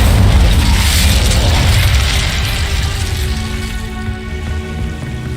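A fiery Incendio spell cast in Hogwarts Legacy erupts as a loud whooshing burst of flame, a broad roaring blast that gradually fades and thins into a quieter crackling tail.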